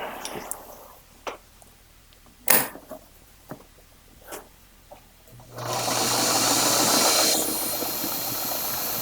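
A sewing machine stitching dropcloth fabric starts after a few scattered clicks and knocks of handling, then runs as a loud, continuous whirring hum for the last few seconds.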